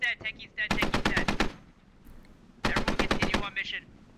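Two bursts of rapid machine-gun fire in the SquadOps video game, each about seven or eight evenly spaced loud shots, separated by a short pause, with brief clatter and faint voice sounds between and after.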